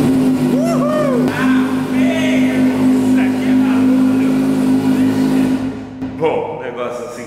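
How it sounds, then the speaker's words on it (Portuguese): A Jeep Cherokee XJ engine fires up and settles into a loud, steady, rumbling idle up close. It runs evenly for several seconds before dropping off near the end. "Vamos dar aquela ligadinha aqui pra gente ouvir o berro."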